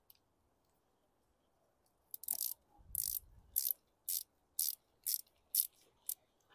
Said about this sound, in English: do this one manually with my 1/4-inch drive